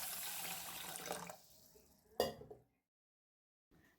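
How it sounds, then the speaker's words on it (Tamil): Raw rice is rinsed with water in a home kitchen, a close running and sloshing wash that fades out, then a sharp splash or pour before a moment of silence and a faint final trickle. "அரிசியை 2 தடவை நல்லா தண்ணி விட்டு வாஷ் பண்ணிவிட்டு"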